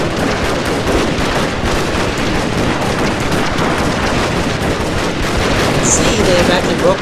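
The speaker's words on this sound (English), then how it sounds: "now you have a line of infantry along with the Gatling guns" Rapid, continuous Gatling gun fire in the Shogun 2: Total War video game, a dense, steady rattle of massed shots with infantry volleys, loud and unbroken throughout.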